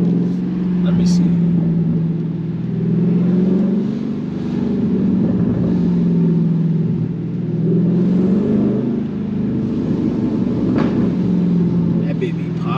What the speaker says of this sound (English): I swear my car sound the best when it rains.